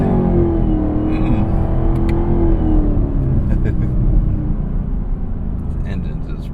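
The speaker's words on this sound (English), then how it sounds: "This engine just roars." A Chevrolet ZL1 Camaro with a 10-speed automatic roars in a steady, loud, deep rumble heard from inside the car as the pitch climbs and then eases, with the engine dominating throughout.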